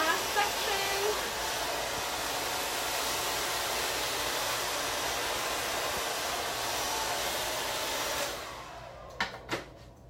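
A hair dryer blows steadily for about eight seconds while hair is styled with a round brush, a loud even hiss up close that cuts off, followed by a few small handling knocks.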